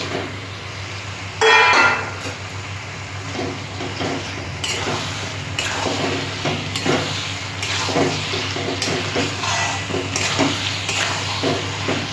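Goat meat hitting hot spiced oil in a pan, a loud burst of sizzling at first settling into a steady frying hiss, with scattered clinks and stirring scrapes throughout.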